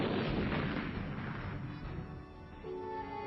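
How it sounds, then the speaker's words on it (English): Korean War artillery bombardment, shells fired in an endless succession, heard as a dense, rumbling wall of booms and blasts that stays loud throughout, in an old muffled recording. "Teams of troops operated an assembly line of ammunition, sending an endless succession of shells airborne."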